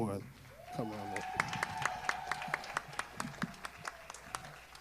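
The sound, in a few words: applause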